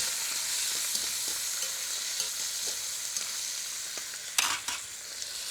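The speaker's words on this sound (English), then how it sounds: "I'm gonna let them start to saute a little bit in that beautiful fat" Ingredients sauté in hot fat in a pot, giving a continuous close hiss with scattered clicks and scrapes from stirring, one louder clatter near the end, and no speech.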